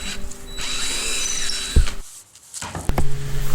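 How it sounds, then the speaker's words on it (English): A power drill boring a 3/8-inch center hole for a dowel in a candy dispenser build, a brief whirring run that cuts off, followed by a few light knocks. "Now I'm going to drill out the hole in the center so it can fit the dowel size I have, which is 3/8."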